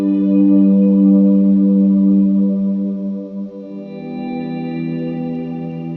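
An ambient electric guitar swell run through three delays and reverb, a soft sustained chord that rises, then changes to a new chord and rings on with a long, echoing tail.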